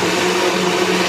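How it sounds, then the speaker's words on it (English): A blender runs steadily in a noisy home kitchen, blending tomatoes; a loud, continuous motor whir with a steady hum, no voices. "I'll fire up the blender."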